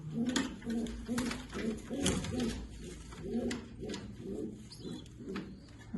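Several pigeons coo in repeated low rolling phrases close by, a steady overlapping chorus in a loft with newly hatched chicks, with no one talking.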